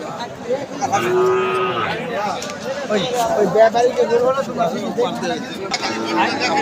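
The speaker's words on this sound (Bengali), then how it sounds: "খুব সুন্দর সুন্দর গরু এখানে আমদানি হচ্ছে" Cattle low and moo amid the crowd noise of a busy Bangladeshi livestock haat at Chaubaria, Manda, Naogaon, where cows are bought and sold; one clear drawn-out moo stands out near the start, with steady voices and chatter throughout.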